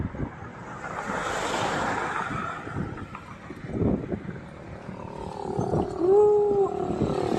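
Sea surf washes beside Santa Ana Bridge in Cagayan, a broad roaring wash of waves mixed with strong wind buffeting the microphone, with no talking.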